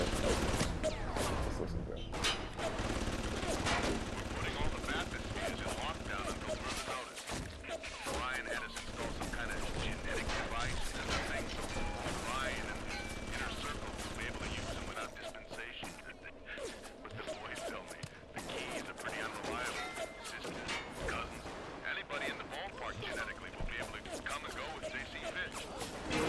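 Gunfire in the video game BioShock: bursts of shots and clattering impacts run throughout at a steady, dense level, with talk over the top.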